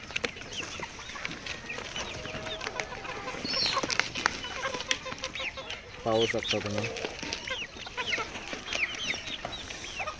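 Desi village hens cluck steadily on a backyard poultry farm, with one louder drawn-out call midway, while someone talks over the birds close to the recorder.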